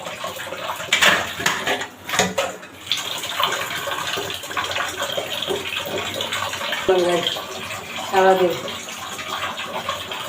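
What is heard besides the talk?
washing dishes, pots and utensils with running water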